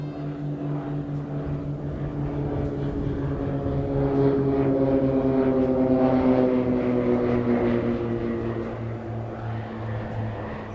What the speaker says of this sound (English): looks like we've got a private coming in. ZK map.